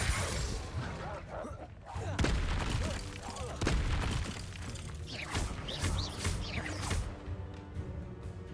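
Spell-casting blasts in the Hogwarts Legacy video game: repeated booming impacts and crackling bursts amid busy combat effects, loud and close, with a voice talking over the action.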